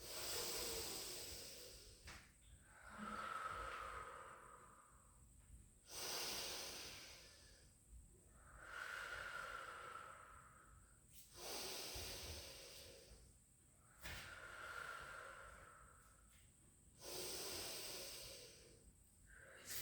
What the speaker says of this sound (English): 4 big deep breaths in and out.